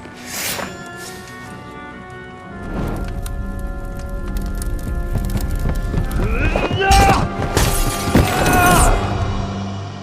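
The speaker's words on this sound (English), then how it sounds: "He's fallen off his horse, hasn't he?" In Kingdom Come: Deliverance 2, a rider falls from his horse amid a crash and clattering hooves, and the horse whinnies loudly near the end. Game sounds and brief voices can be heard as well.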